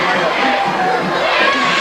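A home crowd roars and cheers at a Cumberland Gap high school football game against Claiborne after the first score, a dense, steady wash of shouting voices.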